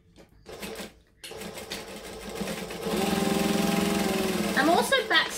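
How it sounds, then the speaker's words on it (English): A sewing machine runs in a steady, loud mechanical whir as it stitches and back-stitches a seam on a fabric clutch bag, preceded by brief handling noises and a voice talking. "I'm also back stitching at the end of each because I do like to lock in my stitches."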